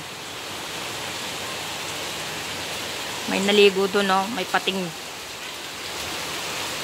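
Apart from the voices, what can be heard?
rain falling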